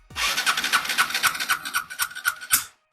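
An Aprilia Scarabeo scooter engine with a new spark plug cranks steadily during a compression test without throttle, giving rapid rhythmic pulses for about two and a half seconds before stopping abruptly.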